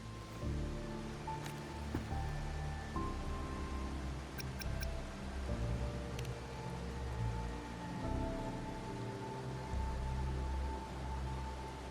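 Steady rain falls in the video game Wuthering Waves, a dense hiss lasting throughout with sustained musical tones and a few brief high pings layered over it.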